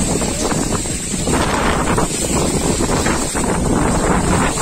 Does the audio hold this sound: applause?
no